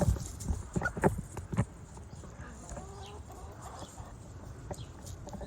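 Chickens cluck close by, with a few louder bursts early on, then softer scattered clucks over a steady low background.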